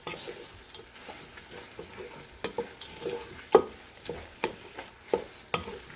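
A spatula stirs seafood okra soup in a pot, giving a steady run of soft scrapes and sharp knocks against the pan over a faint sizzle, close and unaccompanied by talk.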